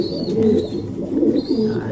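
A pigeon in a loft coos in repeated low, throaty bursts, close and moderately loud, with faint chirps above.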